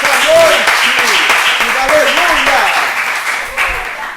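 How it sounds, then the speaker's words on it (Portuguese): A church congregation claps for the Lord during an evening service. Steady clapping sits beneath a preacher's loud voice, which dominates, and the applause fades slightly toward the end. "Você pode aplaudir ao Senhor nessa noite."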